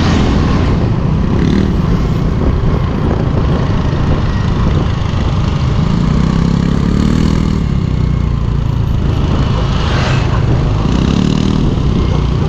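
Two motorcycle engines running together, a loud continuous rumbling drone with slight swells in pitch and no talking over it.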